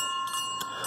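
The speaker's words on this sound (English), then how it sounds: "Really cool bells, and they sound great." Bells at an estate sale ring with a bright, sustained metallic tone, struck several times in quick succession so the chime carries steadily through the brief moment.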